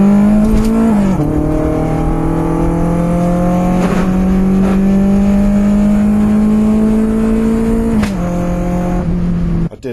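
A rear-wheel-drive K10 Nissan Micra engine flat shifts: a loud, close, sustained rev with quick dips in pitch at each gear change, first near the start and again later.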